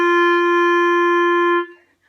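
A single sustained clarinet note played without tonguing, a steady reedy tone with a soft onset, held alone for about a second and a half before fading out.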